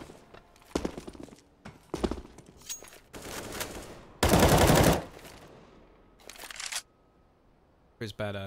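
Gunfire in a Counter-Strike match on the train map, with bursts and sharp single shots scattered across the scene, one sustained loud volley in the middle, and voices talking throughout.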